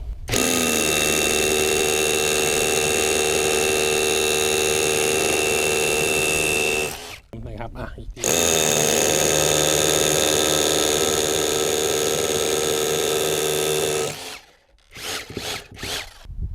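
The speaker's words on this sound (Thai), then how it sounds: "ใช้กับดอกเบอร์ 10 นะ ที่โหมดเจาะกระแทกนะครับไปหนึ่งสองสาม" A Pumpkin cordless rotary hammer on a Makita battery, fitted with a 10 mm bit in hammer mode, drills in two long, loud, steady runs with a brief pause between them, then stops with a few short clatters.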